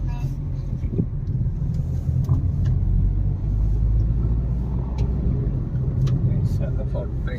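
Steady low engine and road rumble fills the cabin of a car on a long road trip from Chhattisgarh to Kolhapur, constant and close throughout, with faint voices murmuring beneath it.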